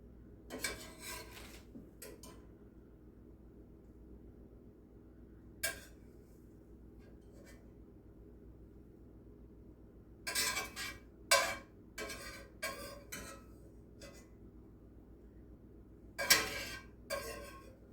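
Plate and skillet handled in a home kitchen while serving a keto breakfast, giving scattered clinks and scrapes in short bursts, quiet and close, with long pauses between and no talking.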